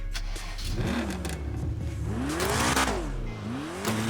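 A BMW M5 F90 engine in GTA 5 RP revs up and down in several sweeping pulls, loud and close, with a steady low rumble underneath and no talking.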